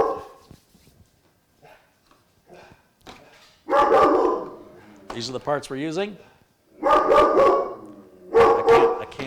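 A dog barks in bursts, several loud close yaps and whimpering yips in clusters, interleaved with someone speaking at a desk indoors.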